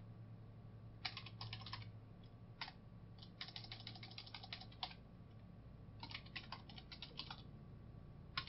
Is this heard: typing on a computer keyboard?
yes